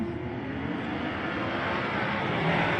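Midget race cars on a dirt oval roar together in a thick, sustained engine drone at the green flag, loud and steady across the whole stretch, with no talking.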